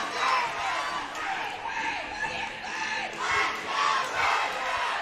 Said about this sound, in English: So the parents are cheering again